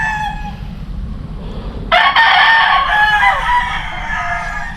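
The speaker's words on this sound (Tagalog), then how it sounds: "ibang manok nila" Roosters crowing among chickens on a Philippine backyard farm, a loud close crow bursting in partway through over low steady background noise and clucking.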